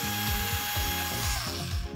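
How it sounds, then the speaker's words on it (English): An orbital sander running on gingerbread gives a close, continuous buzzing whir with a rapid repeating rattle, steady throughout. "it's time to soften it off with a traditional orbital sander"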